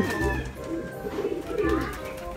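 Breeder pigeons that got loose from a loft left unclosed coo loudly and close by in repeated low throaty calls over a few seconds.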